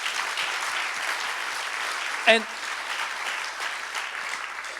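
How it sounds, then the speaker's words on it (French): An audience at a guest pastor's sermon applauds the young people, a steady wash of dense clapping that carries through the whole stretch, with one brief spoken word cutting in near the middle. "Give the youth a big hand."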